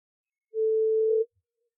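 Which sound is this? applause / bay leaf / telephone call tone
telephone call tone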